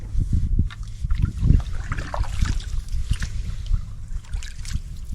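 Paddling a green canoe on Lake Cressbrook, with steady splashes and water swishing close by in an irregular stroke rhythm, moderately loud, with no talking.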